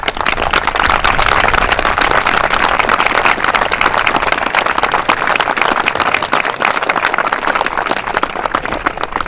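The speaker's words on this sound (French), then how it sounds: "Sous vos applaudissements, mesdames et messieurs" Audience at the 2015 alphorn festival in Valais claps in a loud, dense, continuous burst of applause that holds steady throughout without easing off.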